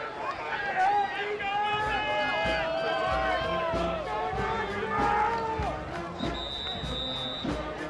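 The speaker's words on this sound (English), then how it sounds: "Very loud crowd here today. Maybe the loudest I've heard all season long." Loud crowd at a high school football semifinal, with dense roaring, shouting and whistles packing the air throughout, while several voices carry over the din.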